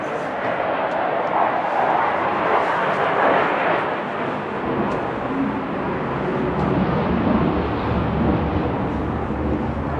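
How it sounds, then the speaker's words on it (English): A jet aircraft passes overhead outside a 2011 Heartland Big Horn 2985 fifth-wheel camper, a loud, steady broadband roar that fills the whole stretch with no break and partly masks any talk. "And now I'll go right inside while that jet flies over."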